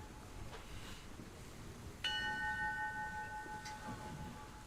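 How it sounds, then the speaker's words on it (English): A ship's bell rings out sharply once with a long, clear ringing tail, heard over a quiet, breathy ambient background of wind or sea, with a fainter strike near the end. "You start hearing the sound of the captain's bell, the ship's bell, going off from above"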